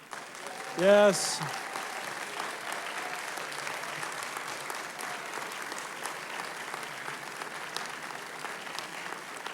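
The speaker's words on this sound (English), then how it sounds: "let's give them a round of applause" Audience applause for principals and assistant principals at an awards ceremony, a steady, moderate crowd of clapping that runs evenly throughout, with a brief voice and a short sharp sound near the start.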